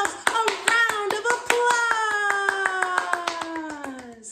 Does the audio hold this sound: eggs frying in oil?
no